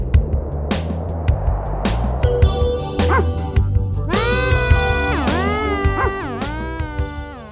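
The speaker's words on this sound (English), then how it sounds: "hearing like the dog barking samples" Dog barking samples, a run of sharp yips and barks with whimpering, pitch-bent tones layered over music, loud and repeated in quick bursts.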